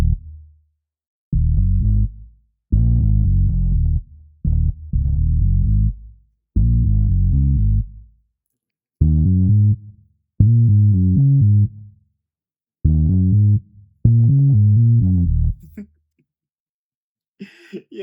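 A bouncy, groovy R&B bass line plays alone in a beat, loud and close, phrased as repeated short melodic bursts separated by brief gaps.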